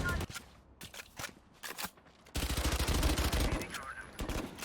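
Rapid gunfire bursts from an enemy player in Valorant, several sharp volleys ringing out in quick succession and then a denser stretch of continuous shooting, fairly loud and close.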